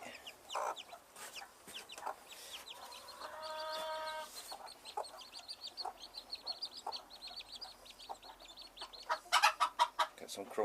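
Chicks kept in a box on an allotment, with high cheeping and chirping scattered throughout, close and lively, alongside some clucking and a few louder bursts near the end.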